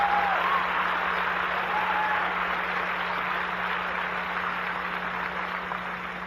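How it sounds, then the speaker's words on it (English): Audience applauding in a steady, dense wash of clapping heard from a distance, holding at a moderate level and easing slightly toward the end, with no talking over it. "I don't know why you're clapping."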